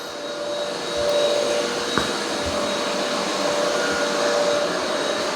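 A Yeedi M14 robot vacuum vacuuming and mopping a concrete floor gives a steady, close motor whine with a constant high tone, one faint knock partway through, and no talking.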